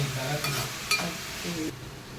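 Food sizzles and fries in a pan while being stirred after a pinch of salt goes in, a steady close hiss with a couple of soft scraping stirs, no voices.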